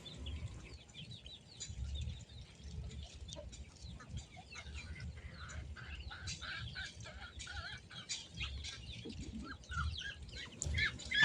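Muscovy ducks and native chickens feed together, with continuous clucking, scattered chirps and bursts of wing flapping at moderate distance. A low rustle of movement runs underneath.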